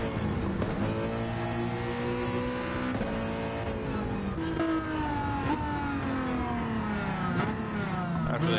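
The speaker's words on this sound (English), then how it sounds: "Actually, Aspirated sounds spunky when it downshifts." Race car engines in a video game race rev and shift, several gear changes rising and dropping in pitch, loud and continuous with engines layered over one another.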